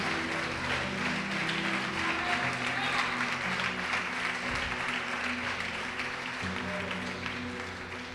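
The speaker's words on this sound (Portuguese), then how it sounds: "Pode aplaudir o Senhor e glorificar a Deus." A church congregation applauds during a sermon, a continuous moderate wash of clapping heard over a low background drone and organ-like tones for the full stretch.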